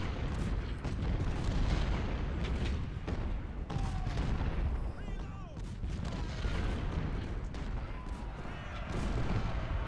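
Artillery fire from the Civil War game Ultimate General, with canister shots booming in a dense, continuous barrage over rumbling battle noise, loud and close throughout.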